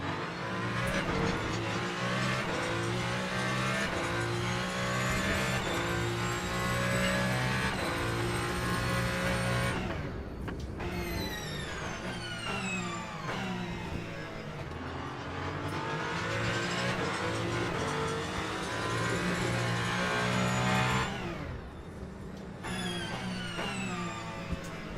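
Race car engines roar in the Le Mans Ultimate sim with a Toyota close behind: a loud, continuous high-revving drone with repeated gear shifts and dips under braking, then climbing again as the cars accelerate.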